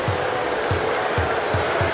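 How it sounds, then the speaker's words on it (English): A basketball arena crowd roars and cheers during a game in the NBA Live 08 video game, a loud, sustained wash of noise with low thumps recurring about every half second beneath it. "this home team has battled their way back in, and the crowd loves it."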